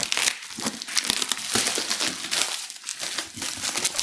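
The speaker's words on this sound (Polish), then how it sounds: "Otwieramy paczkę." A cardboard parcel is opened with close crinkling, tearing and crushing of packaging, in quick irregular bursts without speech.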